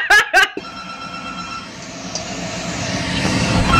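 A phone ringing in a video game: two sharp, loud electronic bell bursts right at the start, then a sustained engine-like drone that gradually swells.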